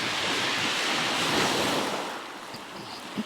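Surf breaks on the beach at Pevensey Bay in a continuous rushing wash, with wind buffeting the microphone. The roar eases slightly toward the end, and nobody speaks.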